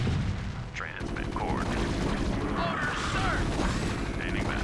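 A siege tank fires in StarCraft 1, its repeated booming shots mixed with other battle effects while a player talks throughout.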